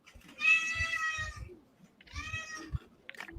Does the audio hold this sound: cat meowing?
yes